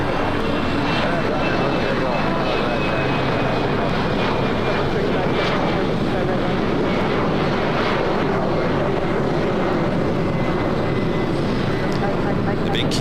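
Airliner powering up for takeoff on runway 25 right at LAX, a steady loud roar of jet engines from a distance, constant throughout with faint background noise and no speech.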